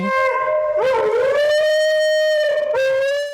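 A husky howls indoors after recorded wolf howls are played to it, giving long, loud, wavering howls close by, rising and sliding in pitch with short breaks between them.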